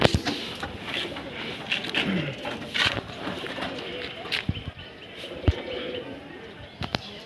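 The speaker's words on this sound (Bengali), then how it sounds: "চলুন দুটো পায়রা একসঙ্গে ছেড়ে দেখাচ্ছি" Pigeons kept by a home fancier, two released together, with soft cooing and sharp wing claps and flutters close by amid quiet yard noise.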